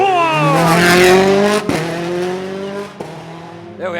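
Thierry Neuville's Rally1 car at the Monte Carlo Rally warms its tyres and brakes, revving hard with loud rising and falling engine notes, sharp bangs and tyre squeal, while a commentator talks over it.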